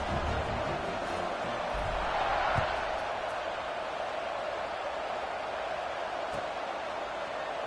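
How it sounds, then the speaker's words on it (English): A football stadium crowd at an Auburn game roars after a scoring drive, forming a dense, steady wall of cheering that swells slightly early on and then holds loud and unbroken throughout. "this crowd is feeling themselves after that last drive"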